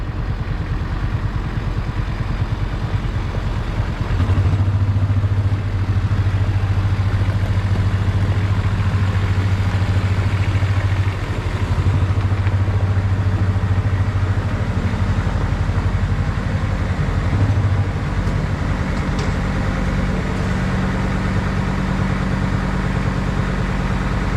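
A Kubota tractor engine runs steadily close by on a farm, a low chugging drone with occasional clattering and slight shifts in pitch throughout.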